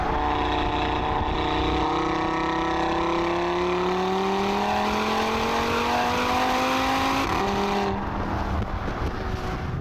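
A 2018 Audi RS3 engine pulls hard and steadily, its droning tone rising as the car accelerates, heard loud and close from inside the cabin, with a brief dip and step near the end, like a gear change, and no talking.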